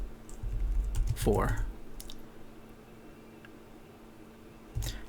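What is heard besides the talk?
typing on a computer keyboard and pressing the enter key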